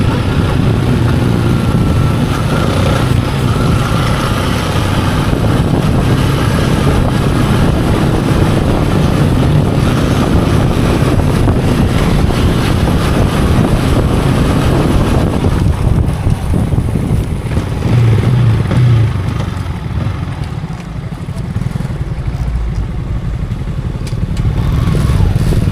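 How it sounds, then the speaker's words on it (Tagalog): A newly bought second-hand motorcycle being ridden home, its engine a steady loud drone mixed with heavy wind buffeting throughout, with no talk. "Dala na namin yung motor ni Jimmer na bago."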